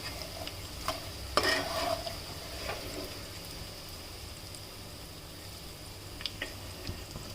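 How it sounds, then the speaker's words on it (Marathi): Green chillies fry in oil for poha chiwda with a soft, steady sizzle, broken by a few light stirring clatters and scrapes, near and fairly quiet with no talk. "अशी मिरची तळल्यामुळे नंतर ती छान क्रिस्पी होते"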